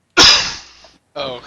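A single sudden sneeze bursts out close and loud during a tabletop game session, fading into a breathy tail before a voice briefly speaks.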